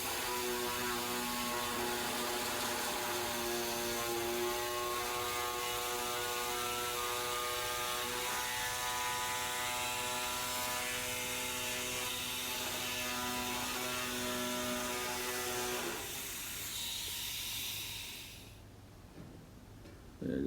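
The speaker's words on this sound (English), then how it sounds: "using a Milwaukee nibbler to trim the hole to the proper size" A Milwaukee nibbler trims a hole in the sheet metal of a 1966 Ford F250 truck, a loud continuous buzzing chatter close up that runs steadily for about sixteen seconds before winding down and stopping.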